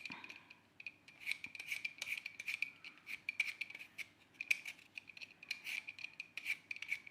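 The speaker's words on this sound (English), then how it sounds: "I'm just gonna peel the last potatoes that I have here" Potatoes are peeled for Christmas roast potatoes with a steady, faint scraping rasp of the peeler in quick repeated strokes, close up and alone.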